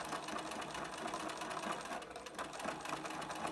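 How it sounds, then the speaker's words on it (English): A sewing machine runs steadily, top stitching along a fold of a multi-layer fabric face mask, a fast continuous whirring hum heard close and alone, fairly quiet. "I'm going to top stitch along that fold about 3 millimeters in from the edge"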